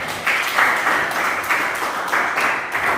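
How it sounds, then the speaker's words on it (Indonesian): Classroom applause for a student during a civics lesson: a steady wash of many hands clapping at moderate loudness, lasting about three seconds with slight swells and no talk. "Beri tepuk tangan untuk Azzahin."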